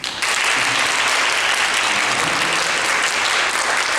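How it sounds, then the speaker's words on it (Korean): A congregation at a Sunday service in a Presbyterian church in Pasadena bursts into sustained applause to welcome visitors, a dense, even roar of many hands that starts abruptly and stays loud throughout. "제가 우리 같이 환영의 박수 올려드리겠습니다"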